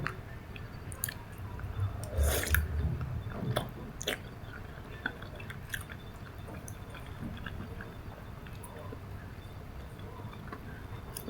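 Close, wet chewing and slurping while eating kuay jap noodle soup, irregular soft smacks and clicks with a louder burst early on, no speech.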